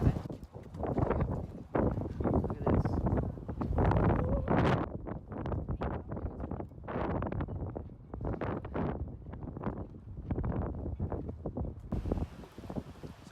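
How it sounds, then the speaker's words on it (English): Strong outdoor wind in Wilmington buffets the microphone in heavy, uneven gusts, a loud low rumble that surges and drops repeatedly throughout, with no clear talk audible over it. "it's really windy."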